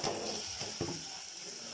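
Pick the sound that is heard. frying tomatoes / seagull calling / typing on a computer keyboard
frying tomatoes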